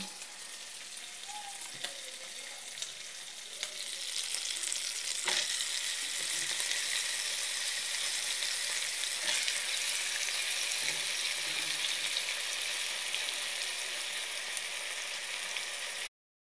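Egg with chopped papaya and spring onion fries in a pan, a constant hissing sizzle that steps up louder after a few seconds and runs on evenly, with a few faint clicks of stirring.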